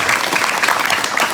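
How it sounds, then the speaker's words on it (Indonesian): A large seated audience at an Islamic boarding school gathering claps loudly and continuously in a brief, dense burst of applause. "Tepuk tangan untuk kita semuanya."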